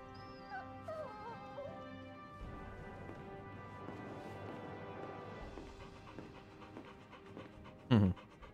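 Dog panting in the Final Fantasy 16 video game, a steady close breathy rhythm running through most of the stretch, with game music and effects behind it and a sharp louder hit near the end.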